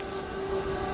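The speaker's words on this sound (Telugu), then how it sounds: "సో మా ట్రైన్ వచ్చేసింది" A KTX high-speed train pulls into a station in Korea with a soft, steady rumble and a sustained whining tone, distant and faint.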